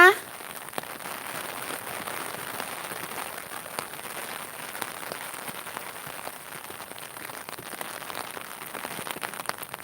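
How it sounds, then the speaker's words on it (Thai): Steady rain falling along a roadside during a walk home, a dense continuous patter of drops on the surface with a brief bump at the start and no pauses. "วันนี้ก็ฝนตกนะคะ"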